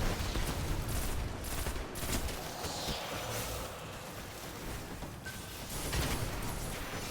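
Continuous rattling gunfire from shooting enemies in a video game, steady and fairly loud throughout with no clear pauses, layered over a busy game mix.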